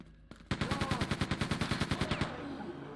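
The big gun in Quake II fires a rapid, evenly spaced burst of about eighteen punchy shots, loud and close, ringing out briefly after the last one.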